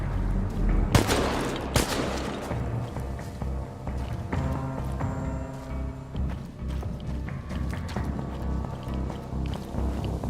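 Gunfire in the game Chernobylite comes in a few loud, sharp cracks early on, followed by scattered shots and clatter over a droning game backdrop, with no talk.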